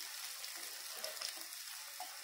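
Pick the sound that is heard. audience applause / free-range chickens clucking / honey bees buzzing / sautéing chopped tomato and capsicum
sautéing chopped tomato and capsicum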